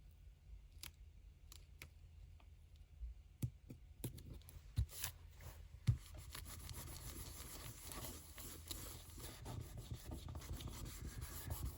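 A vinyl sticker from a digital kit is burnished down by hand with repeated close rubbing and scraping strokes, a few sharp clicks early on, then a denser continuous scrubbing.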